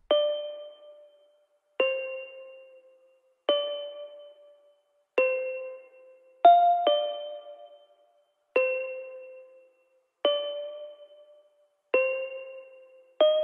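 A bell-like synth preset from Omnisphere, processed with EQ, reverb and Soundgoodizer, rings out in single struck tones about every second and a half, each decaying smoothly into silence.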